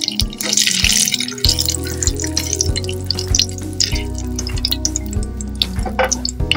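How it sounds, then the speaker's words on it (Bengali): Bay leaves tempering in hot oil in a pan while cooking a dahi paneer curry, a loud crackling sizzle with sharp pops over a rhythmic low thumping, close and continuous. "এখন আমি তেজপাতা ফোড়ন দিয়ে দিচ্ছি।"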